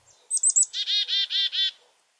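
A black-capped chickadee gives its call close by: a few high sharp notes followed by four evenly spaced buzzy dee notes, clear against a quiet background.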